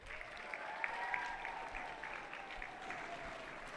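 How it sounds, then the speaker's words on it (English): Spectators at a FIRST LEGO League robotics championship clap for the referees, a moderate sustained patter of applause in a large venue with a steady tonal hum running underneath. "so please give them a round of applause."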